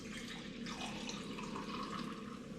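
Hot mulled spiced hard apple cider poured into a mug, a continuous close splashing trickle with a rising fill tone, steady throughout.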